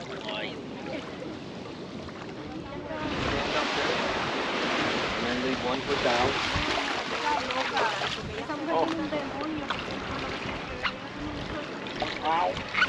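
Surf washing in at a beach with tents and umbrellas, a steady broad wash rising from moderate to louder after the first few seconds, with people talking and some wind over the microphone.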